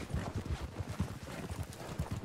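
An American Paint horse trots in Red Dead Redemption 2, its hooves giving a quiet, even clip-clop rhythm of soft thuds with no other sounds.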